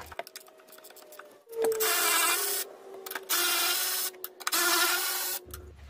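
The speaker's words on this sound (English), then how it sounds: "we're gonna use 15 mil socket, short, with a flex head" A short flex-head ratchet with a 15 mm socket loosens the front strut nuts on a 2020 Dodge Journey, producing loud bursts of rapid grinding clicks separated by quiet pauses, close up and with no speech.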